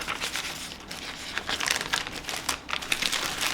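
Christmas paper handled and sorted up close, making irregular bursts of crinkling and rustling with brief pauses between the handfuls.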